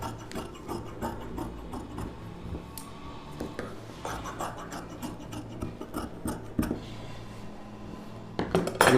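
Scissors cut through silk sari blouse fabric in a long run of short, dry, rasping snips close by, with a light scrape against the table and a louder cluster of snips at the end.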